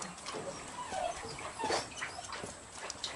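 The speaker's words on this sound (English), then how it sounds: "They're all very friendly, as most beagles are." Several beagles in a group whimper and give short yips, a soft, uneven run of whines rising and falling at moderate distance without talk over it.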